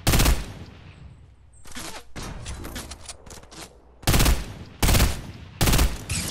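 Bursts of close, loud gunfire in a shooter game, with several sharp volleys separated by quieter gaps and a rattling rapid stretch in the middle.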